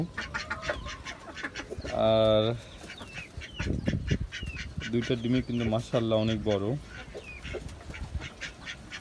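A few loud nasal quacks from nearby ducks kept on a rooftop with a mini pond, one long burst then a cluster of calls, mixed with a person talking and background birds.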